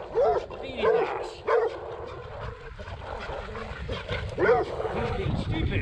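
A dog chasing a cyclist barks and yips in several sharp bursts, close and fairly loud, with someone speaking to it between and over the barks.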